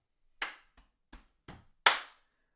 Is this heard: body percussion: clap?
yes